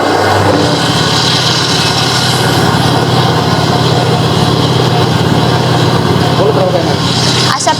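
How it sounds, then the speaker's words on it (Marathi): A grinding mill machine grinds chilli into powder, its motor producing a loud, steady drone with a constant low hum that runs without a break through the whole stretch. "चला आपण मशीन चालू करूया"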